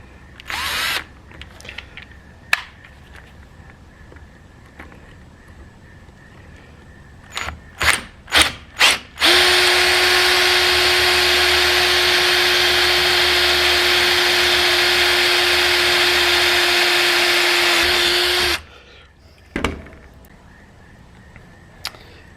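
A power drill bores holes with a 3/16 bit for an RV awning fitting. A few short sharp clicks come first, then a loud, steady, close whine holds for about nine seconds before cutting off. A brief knock follows.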